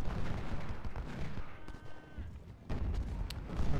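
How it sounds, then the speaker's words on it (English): Civil War artillery, ten-pounder cannons in a strategy video game, fires in a rolling battlefield barrage, with dense booming rumble broken by a brief quieter lull before the cannonade resumes. "Our 10 pounders, 26 of them, 24 of them opening up on Hatton now"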